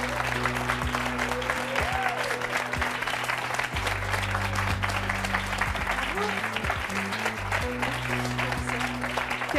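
An audience on a French talk show claps warmly in a sustained burst of applause, with a voice speaking over the clapping.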